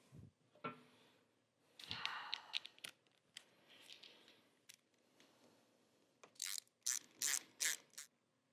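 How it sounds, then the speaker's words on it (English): A ratchet turns new screws by hand on a Sportster chopper motorcycle, quiet scattered clicks and scrapes that build into a quick run of loud ratcheting bursts near the end, with no talk. "these new screws came with blue Loctite on them already, so I'm just going to tighten these down"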